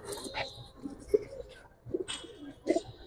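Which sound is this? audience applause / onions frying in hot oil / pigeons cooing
pigeons cooing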